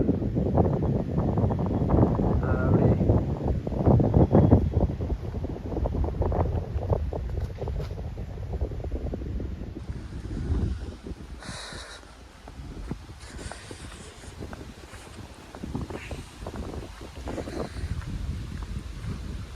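Strong wind gusts roar and buffet the microphone continuously near Kiliyur Falls in Yercaud, rising and falling in a rough rush with occasional thumps.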